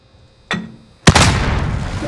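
A grenade goes off in a first-person shooter game: a sharp click or pop, then a loud, close blast with a heavy boom that rumbles and hisses on through the end, with no talk.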